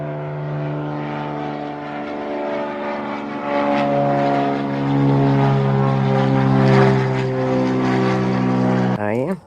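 A 2.1 meter E-Flite Carbon-Z Cessna 150 RC airplane flies with a steady, buzzing electric propeller drone. The sound swells louder as the plane passes, then its pitch bends sharply at the end.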